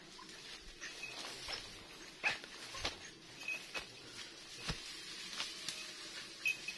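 Hunting dogs make soft, irregular sounds nearby: short faint whimpers, sniffing, and scuffling footsteps scattered over quiet outdoor background, with no talking.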